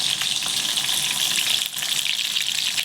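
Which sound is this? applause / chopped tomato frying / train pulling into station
chopped tomato frying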